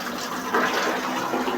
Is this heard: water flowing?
yes